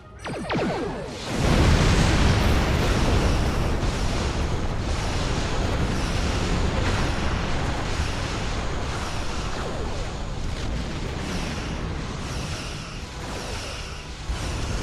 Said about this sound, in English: Explosions cause damage. Put some distance between yourself and exploding ships.